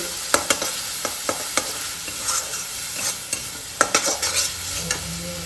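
Spiced fish curry with ginger, garlic, cumin, coriander, chili and turmeric frying and being stirred in a pan: a steady close sizzle with sharp scraping strokes at irregular intervals, no talking.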